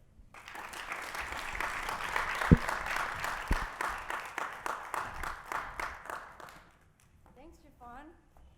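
Audience applause after a talk, a sustained burst of clapping from a crowd that gradually thins out and fades, followed by faint voices.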